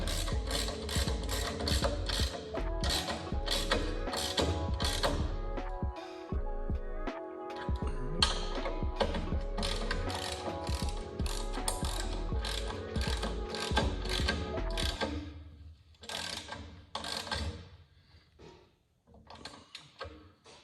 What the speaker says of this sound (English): we got both bolts started. Just crank them down.